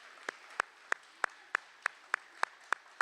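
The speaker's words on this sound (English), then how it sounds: "Please join me in a round of applause for our class of 2027 recipients." At a school awards event for class of 2027 recipients, nine or ten sharp, evenly spaced claps ring out one at a time, close and distinct against a quiet room, more like a single person clapping than a full crowd.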